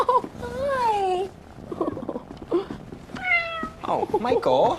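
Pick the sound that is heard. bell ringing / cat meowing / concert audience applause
cat meowing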